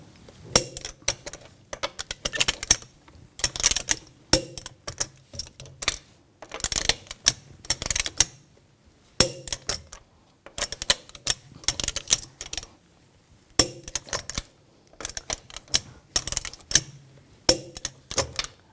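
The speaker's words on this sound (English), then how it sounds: "Now we're going to torque those lug bolts to 111 foot-pounds in a cross pattern" A torque wrench ratchets as wheel lug bolts are tightened to 111 foot-pounds on a 2000-2006 BMW X5. Rapid, close clicking comes in repeated bursts separated by short pauses.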